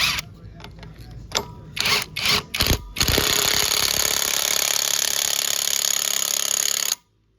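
REAIM impact wrench fitted with a 19mm socket, clockwise, tightening a nut: several short loud rattling bursts, then a sustained hammering run of about four seconds that cuts off sharply.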